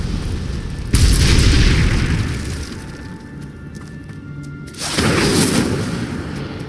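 Incendio fire spell blasts in Hogwarts Legacy, two loud booming whooshes of flame, close and forceful, each bursting out then roaring and fading over a low ambient drone.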